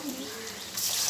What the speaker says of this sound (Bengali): সামান্য পরিমাণ মতো পানি দিয়ে দেবো